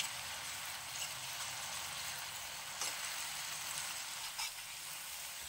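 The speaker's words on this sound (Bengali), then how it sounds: "দিয়ে দেবো ধনেপাতাটা বাটা, দিয়ে এটাকে হালকা হাতে নাড়াচাড়া করতে থাকবো" Ground coriander leaf paste for pickle cooking in a pan, a constant soft sizzle and hiss with a few gentle stirring scrapes.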